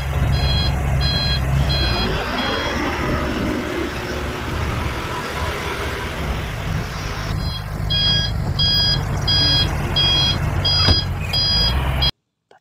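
Reversing beeps from a blue toy dump truck ring out in short regular bursts, pausing early and then returning steadily, with a low motor-like hum underneath.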